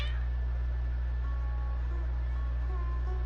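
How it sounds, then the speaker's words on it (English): Cartoonish cat meows from the Genshin Impact video game, several short calls close by over a steady low electronic hum, with no talking. "Your cats seem pretty worked up."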